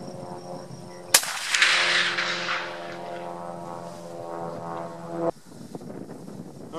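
A single loud, sharp report from a Remington Model 700 Ultimate Muzzleloader firing a Parker 300 grain Match Hunter bullet over 95 grains of Blackhorn 209, followed by a long, fading echo and rumble outdoors.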